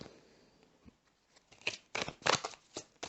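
Soft papery shuffling and flicking of tarot cards, a few quiet rustles, then a quick run of crisp snaps and slides close by.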